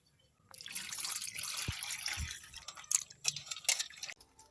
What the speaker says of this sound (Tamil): கொஞ்சமாக புளி எடுத்து கரைச்சிக்கலாம்.